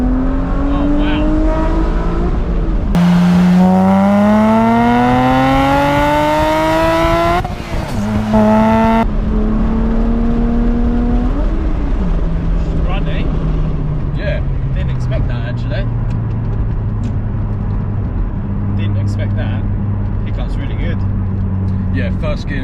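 A Toyota MR2 fitted with a V6 pulls hard in first gear, the engine note climbing sharply in pitch, dropping at a shift and rising again, loud and close from inside the car while occupants talk over it.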